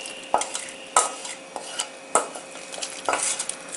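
A spoon stirs soaked rice with onion, greens and brinjal into boiling water in a metal pot, giving sparse, irregular scrapes and clinks against the pot over a soft bubbling hiss, close and alone.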